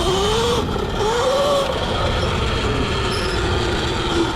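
Surron electric dirt bike converted to 80V and 29 kW, running on power level 2 on a muddy trail: a steady loud whine that rises and falls in pitch with throttle, over constant rushing wind and terrain noise.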